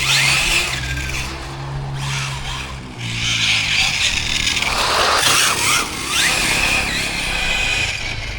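A Hobao TT2.0 RC car on a 3S or 4S battery, its front wheels spinning up and skidding: loud, whining motor revs rising and falling with gritty tire scrub, near, with some talk mixed in.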